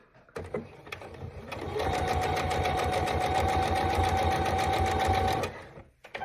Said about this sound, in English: I'm going to fold it in half, and I'm going to just sew it together, 1/4 inch seam.